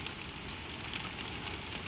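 Gentle rain falls in a steady, even hiss of fine drops, soft and continuous with a faint patter on a surface and no other sounds.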